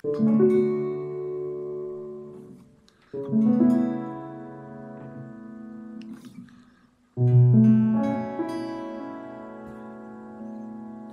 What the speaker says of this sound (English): You can hear like the hammers and the inside of the piano moving a little bit.